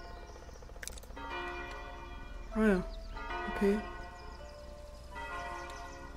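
Church bell chiming in the town-building game Foundation, two bright bell strikes ringing out over steady ambient game sounds, with brief speech in between.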